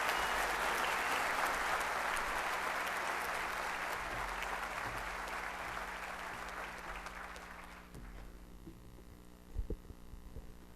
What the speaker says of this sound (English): Let's give a round of applause for the class of 2016